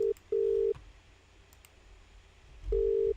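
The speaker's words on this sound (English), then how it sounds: "Hopefully Tayla will answer the phone." Telephone call ringing out unanswered, two short electronic ring tones followed by another after a quiet gap, faint and alone over low background hum.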